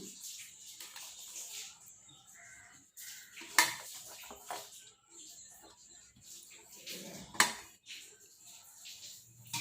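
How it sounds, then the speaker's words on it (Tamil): Hands mix chopped radish greens into rice flour dough with mint for rotis in a bowl, soft irregular squelching and scraping with a few sharper clinks against the bowl, close and fairly quiet. "சேர்த்து இதை நல்லா கலந்து விட்டுக்கலாம்"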